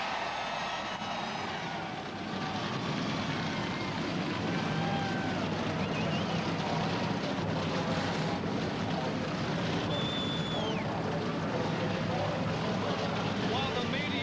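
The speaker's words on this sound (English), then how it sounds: "Gentlemen, start your engines." Stock car engines start up at Bristol for the 1998 race, a dense, continuous mechanical roar blended with crowd and broadcast ambience, steady and loud throughout with faint pitch sweeps above.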